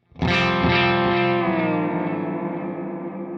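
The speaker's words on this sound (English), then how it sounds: "you could sweep it for some weird," A distorted guitar chord rings out through a Lexicon PCM41 digital delay as its delay time is swept, the repeats smearing and shifting in pitch as it slowly fades.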